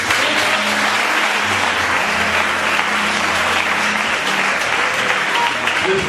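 A crowd applauding a couple's sixteenth wedding anniversary at a thanksgiving gathering, dense sustained clapping that holds steady and loud throughout.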